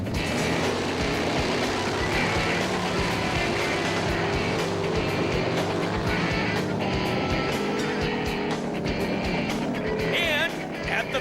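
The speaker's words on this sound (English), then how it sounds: "Now Mike Poison races Tom McNeely for third place." Dirt track motorcycles race at a motorcycle rodeo, their engines revving loudly and continuously as they pass, with a raw buzzing roar that stays strong across the whole stretch.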